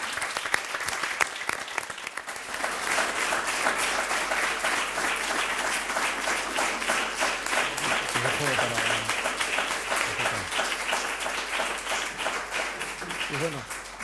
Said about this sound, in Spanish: yo os pediría un aplauso para ellos